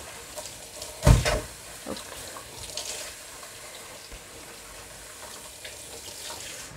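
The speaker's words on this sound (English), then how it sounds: "I'm gonna just rinse them out." Eggplants are rinsed under a running kitchen tap: a loud splash of water hits early, then a softer, continuous flow runs on with small splashes.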